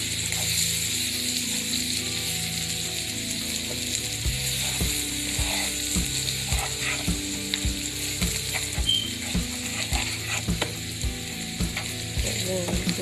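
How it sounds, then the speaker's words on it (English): Food being stirred in a pan after nutritional yeast goes in for a vegan Salisbury steak, a steady low sizzle with repeated scraping and clicking strokes, close and without talk. "now we're just going to stir it all together"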